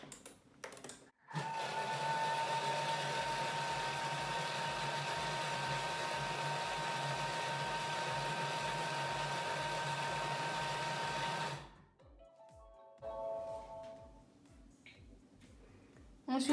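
A kitchen food processor whirs at speed 6 while warming chocolate fondant mixture, a loud steady motor drone lasting about ten seconds, then it stops, followed by a few beeps and clicks.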